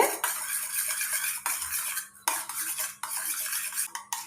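Rapid clinking and scraping of a utensil whisking eggs in a bowl for dosa batter, steady and continuous with a couple of brief pauses, close up.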